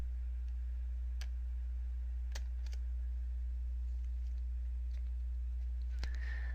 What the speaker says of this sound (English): Hold down the Ctrl and A keys of your keyboard to select your entire text.